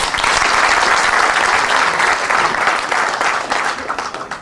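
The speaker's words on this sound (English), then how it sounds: "Give me a round of applause." Audience at a leadership seminar applauds with a loud, dense, steady clapping that holds for the whole stretch and eases slightly at the end, without talking over it.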